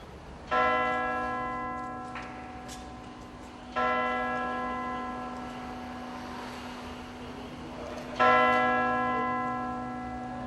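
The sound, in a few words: cathedral church bells ringing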